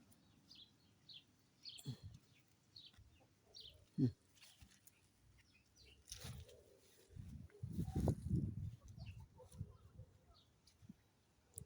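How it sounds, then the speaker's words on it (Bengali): Chickens kept in a small space give scattered, faint clucks and short calls in quiet surroundings, with a few soft bumps and some low background voice. "মুরগি দেখেন, মুরগিও আছে এখানে।"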